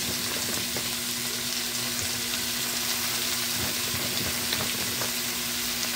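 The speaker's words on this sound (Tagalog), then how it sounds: "gigisa lang natin" Ampalaya with egg and bagoong sautéing in a pan, a steady close sizzle with light stirring clatter and a faint hum underneath, no talking.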